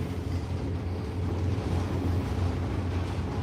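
Riverboat diesel engine on the Mississippi, running as the throttle is pushed up, a steady low rumbling drone with wind and water noise, loud and continuous throughout.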